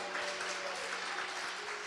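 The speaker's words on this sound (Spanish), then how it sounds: "Denle un aplauso." Audience applause at a church sermon on anointing, a steady, fairly faint wash of clapping through the whole stretch, with no talk over it.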